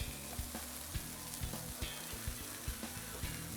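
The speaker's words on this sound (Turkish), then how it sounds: "Her tarafta yağ çıksın ve güzelce kızarsın." French toast frying in butter in a pan, giving a steady close sizzle with small crackles and occasional soft stirring taps, no voices.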